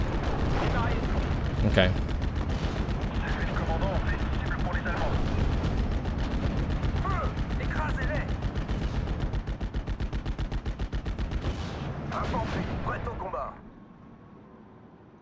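Flak 36 anti-aircraft guns and artillery pound away in the WWII strategy game Steel Division: Normandy 44, a dense, continuous barrage of booms and rapid gunfire under steady commentary before cutting off near the end.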